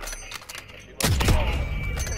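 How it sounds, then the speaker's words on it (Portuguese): A gunshot in a shooter video game: quiet game ambience, then one sudden loud blast with a ringing, rumbling tail. "Que tiro foi esse"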